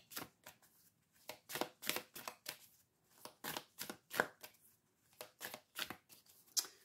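A deck of tarot cards is handled and cut, giving a rhythmic series of short, crisp papery riffles and slaps, close and quiet, with brief pauses between bursts.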